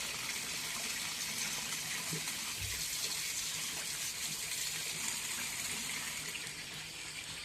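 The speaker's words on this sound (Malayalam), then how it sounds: "നമ്മളപ്പോൾ ഒന്ന് വെള്ളം ഒഴിച്ചിട്ട് ഒന്ന് ജസ്റ്റ് ഒന്ന് ഇടണ്ട്" Water poured into a fish tank during cleaning, a steady close gushing splash that runs evenly and fades slightly at the end.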